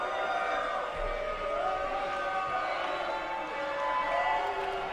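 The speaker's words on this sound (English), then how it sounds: "Crowd making their thoughts known." Crowd at an NXT wrestling event murmuring and calling out, a steady mass of voices with rising chants, fairly distant and moderately loud.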